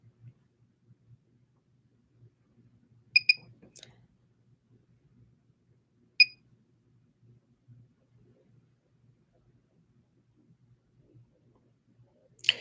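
A Mini by Clareblend microcurrent facial device gives two short, faint, high beeps about three seconds apart in a near-silent room, with soft whispery murmurs in between.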